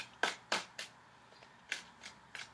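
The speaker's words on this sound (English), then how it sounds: "I'm shuffling the cards." Tarot cards are shuffled in quick riffling bursts, several crisp flutters with short pauses between, close and quiet.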